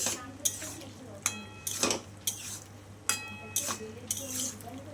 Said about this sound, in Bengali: আমি এখন ভালো করে সবজিগুলোর সাথে মিশিয়ে নিচ্ছি